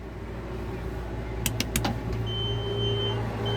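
Electric motor of a powered bed inside a camper van, raising the bed with a steady close hum, a few sharp clicks partway through and a thin high warning beep near the end.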